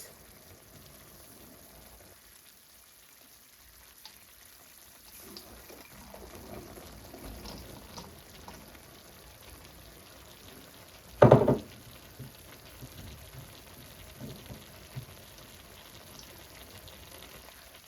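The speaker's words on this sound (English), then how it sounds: "We pour in the green beans." Green beans are poured into a cooking pan of nearly tender vegetables: a single loud, brief rattling sizzle bursts out midway over a low, steady frying hiss, with no talk.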